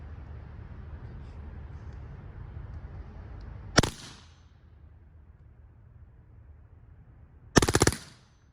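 A Grimburg Kinetics launcher fires two test rounds loaded with 6g 10% OC 2% PAVA, each a sharp, loud burst a few seconds apart against a low background hum, with no talking.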